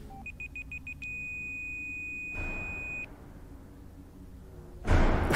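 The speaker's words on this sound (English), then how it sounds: "What is that beeping? Turn it off." An electronic alarm in a VRChat game world gives a quick series of high beeps, then a long sustained tone that cuts off, followed by soft rustling and a louder burst of noise.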